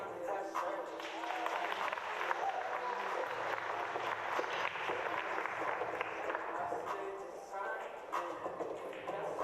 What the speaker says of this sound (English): You might have heard some applause there.